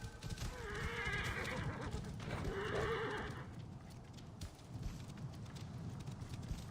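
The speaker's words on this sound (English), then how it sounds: "You get on your horse." A horse whinnies twice and its hooves clip-clop in the game Assassin's Creed Origins; the neighs stand out loud over a steady low rumble of hoofbeats and movement, with no talking.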